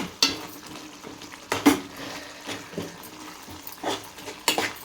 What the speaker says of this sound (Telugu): ఇలాగ చెంచాతో ఇలాగ కొంచెం మెదిపి